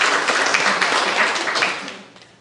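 A seminar audience breaks into a short burst of applause, dense hand clapping that stays fairly steady and then tapers off over about two seconds.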